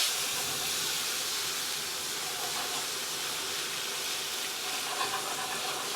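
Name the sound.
T-bone steak sizzling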